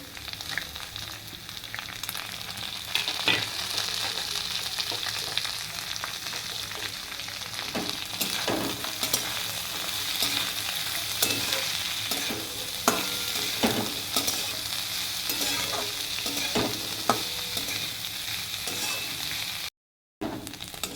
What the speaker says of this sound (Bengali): দেখো লাল লাল করে ভাজা হয়ে গেছে, এবং একটু মধ্যে পেঁয়াজ কুচি দিয়ে দিলাম